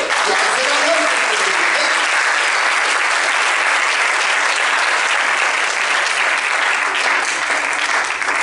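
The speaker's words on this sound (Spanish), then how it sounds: "Y yo quiero que le regale palmas al Señor" A church congregation at a baptism service bursts into sustained applause that fills the room, dense and loud from start to finish.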